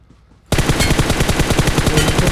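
Sudden rapid automatic gunfire in a mobile shooter game bursts in after a moment of quiet, a loud, dense rattling volley continuing to the end.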